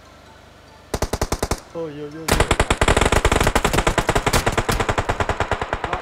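Rapid automatic gunfire in a video game, bursts of sharp close shots, a short pause with a voice, then a long sustained stream of rapid fire.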